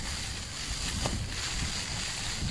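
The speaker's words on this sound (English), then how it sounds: "the wind is absolutely terrible" Strong night wind buffeting outside a hot tent, a constant loud roaring rush with gusty swells, close to the microphone and unbroken by voices.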